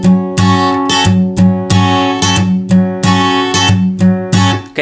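Acoustic guitar strummed in a down-down-down-up pattern on chords with palm muting, giving short damped strokes in a steady, loud, close rhythm with no voices.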